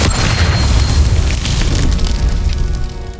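A Confringo blasting spell explodes in a Harry Potter wizarding video game. A heavy boom with a rumbling low burst fills the short moment and then slowly fades.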